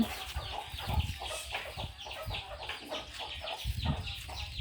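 A flock of chickens clucks nearby at a farm, with overlapping, irregular clucks and soft calls continuing throughout, fairly loud and close, with no talking.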